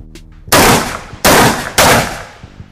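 Kral Arms Tavor-style bullpup shotgun fired at a shooting range: three loud, sharp blasts in quick succession, each with a brief ringing decay, no voices.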